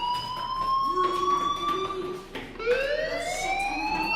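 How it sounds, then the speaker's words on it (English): A school fire alarm in the video game Life is Strange wails steadily in a rising and falling siren tone, dipping briefly midway before resuming, loud and alone. "do you hear that fire alarm?"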